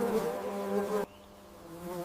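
Honey bees buzz in a dense, steady swarm close by, loud for about a second before cutting abruptly to a quieter, thinner hum that swells again toward the end.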